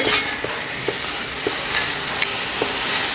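Broad beans being stirred into a hot sizzling pan for usili, continuous frying hiss with scattered scraping taps of the spoon against the pan, close and fairly loud, no voices.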